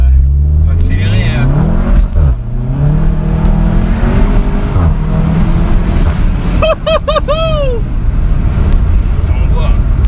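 A 360-horsepower stage 1 SEAT Cupra accelerates hard and close, its engine rising and dropping through several gear changes, with sharp high whistling bursts partway through. Someone talks over it.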